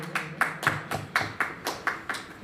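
An audience at a live stage program claps in a slow, steady rhythm, about nine distinct hand claps spaced evenly, moderately close and with no talking over them.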